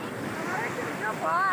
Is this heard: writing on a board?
no